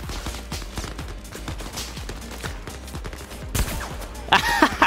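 Rapid gunfire from the WW3 shooter Zero Caliber, a steady stream of sharp repeated shots throughout, with a denser, louder burst of fire near the end.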